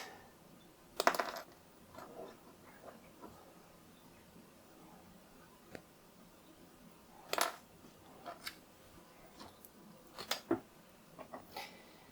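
Sharp snipping clicks from clear plastic model car parts for a 1:8 Aston Martin DB5 build being cut from their sprue mount, a few close, isolated snaps spread over a quiet background.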